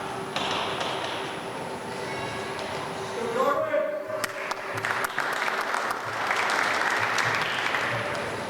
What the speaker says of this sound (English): Let's have a final applause for all our new master's graduates